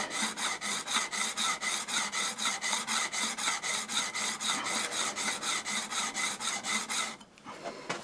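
A hand plane's chip-breaker is rubbed flat against a sharpening stone in fast, even back-and-forth strokes, a close, steady rasping rhythm that stops abruptly near the end.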